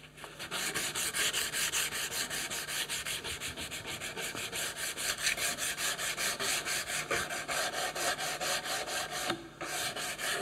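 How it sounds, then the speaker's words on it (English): Hand sanding across the grain of a wooden workpiece with coarse abrasive paper, a steady, close, continuous rhythmic rasping scrub with repeated back-and-forth strokes and a brief pause near the end. "I don't sand across this grain too much here with the course"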